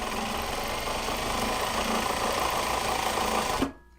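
A sewing machine runs continuously at a steady, loud pace, stitching a tack hold seam on a Japanese fabric box-style project bag, then cuts off abruptly near the end.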